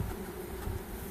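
Honeybees hum in a steady, dense drone close to an open beehive being worked by a beekeeper, with the low buzzing continuous and even throughout.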